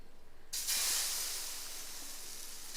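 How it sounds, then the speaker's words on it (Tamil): Adai dosa batter poured onto a hot griddle, setting off a sudden loud hiss of sizzling that holds steady and slowly settles, close and alone with no voices. "கல் காஞ்சிருச்சு, நம்ம தோசையை ஊற்றிக்கலாம்."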